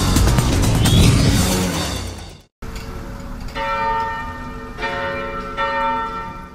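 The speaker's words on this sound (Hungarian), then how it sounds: "Szent Márton napi búcsúra hív a Munkácsi Római Katolikus Egyház harangja." Roman Catholic church bell in Mukachevo ringing for the St. Martin's Day feast, loud ringing strikes with long ringing overtones, a burst of swinging peals, a brief cut, then several clear separate strikes decaying, no voices.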